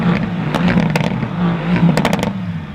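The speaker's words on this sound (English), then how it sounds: "I think AMGs are officially my favorite exhaust sound out of any manufacturer" Exhaust of a 2018 Mercedes-AMG GT C Roadster, loud and close with a revving engine roar and sharp crackles and pops scattered through it.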